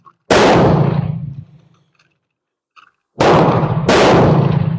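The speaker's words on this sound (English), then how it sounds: "today I've got the Beretta Olympia 22 training rifle out here again" Beretta Olympia .22 caliber training rifle firing outdoors: three sharp, loud shots, one alone and two in quick succession, each followed by a short echoing decay and near-silence between.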